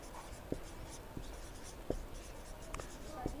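Chalk or marker writing on a board while working through a class 10 geometry problem on rhombus area, giving scattered short taps and strokes spaced about a second apart over a steady room hiss.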